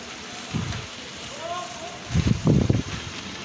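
Soft patter of rain in Chittagong as a steady hiss in the background, with low murmuring voices and faint rustling breaking through now and then.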